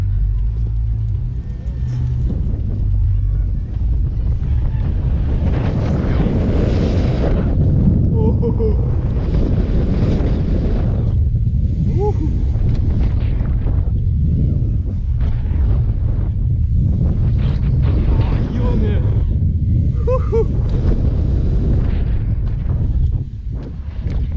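Strong wind gusts buffet the microphone continuously at a seaside mountain-bike jump event, loud low rumbling swells rising and falling throughout, with faint voices underneath.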